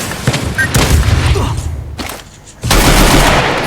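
A loud explosion in Free Fire bursts in amid a flurry of gunfire, with a brief lull before another heavy blast rumbles on.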